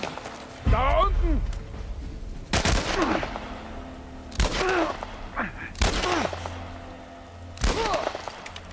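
Gunfire in the video game The Last of Us Part 1, several sharp loud shots in separate bursts over a low background, with in-game voices shouting between them.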